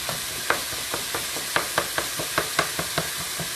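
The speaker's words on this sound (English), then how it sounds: "Got the meat going over here" Minced meat frying in a pan on a home stove, a steady close sizzle broken by repeated sharp scraping taps of a utensil stirring it.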